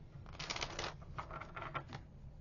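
Tarot cards are shuffled up close in several quick riffling bursts. The crisp papery rustles come in short clusters with no speech.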